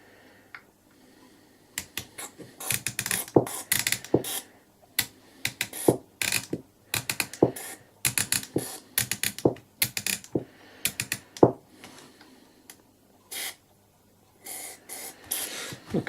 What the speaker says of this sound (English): in with the switch cleaner